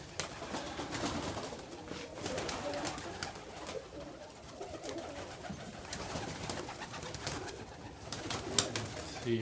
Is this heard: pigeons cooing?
yes